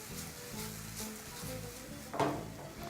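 Apples cook in a pan for apple pie while being stirred, a soft steady sizzle with gentle scraping strokes and one brief louder clink of the spoon near the end.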